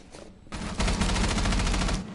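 A rapid burst of automatic gunfire rattles continuously for over a second, loud and close, with synthetic game-like sound.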